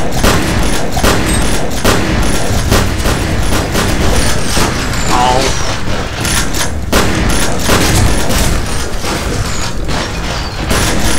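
Dense, nonstop video game gunfire in a chaotic dojo match, with repeated sharp shotgun-like blasts layered over one another for the whole stretch, loud and close with no pauses.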